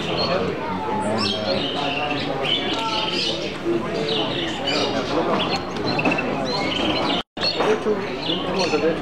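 Small finches, including red-headed parrot finches, chirp and twitter busily at an indoor bird mart, with dense overlapping calls and some cooing from other birds blending with background chatter.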